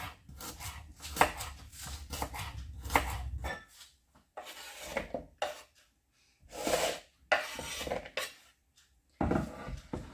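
A knife slicing a large vegetable in half and then into thin slices on a board, a run of close, crisp cutting strokes in uneven bursts with short pauses between.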